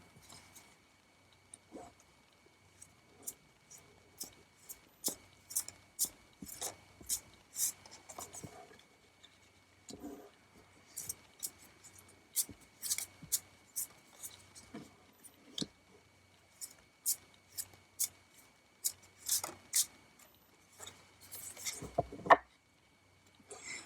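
Tarot cards shuffled and pulled in a quiet room, with soft scattered slaps, flicks and rubs of card stock coming in uneven bursts, faint and near.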